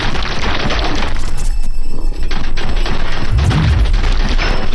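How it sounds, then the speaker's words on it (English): Machine gun fire bursts from a video game in dense, loud rattling volleys with booming impacts, continuing almost without a break. "Oh, machine gun?"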